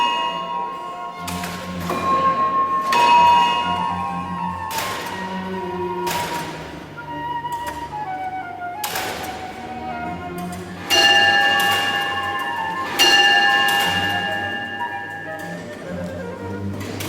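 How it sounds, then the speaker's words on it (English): An old mechanical cathedral clock with a watchman figure and jousting knights strikes its bells for the quarter hour: a slow series of ringing strikes roughly every one and a half seconds, with clear sustained tones and a ticking mechanism, moderately distant and reverberant. "Every quarter hour, the watchman rings the bells and jousting knights go round and round."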